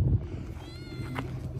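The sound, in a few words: small cat meowing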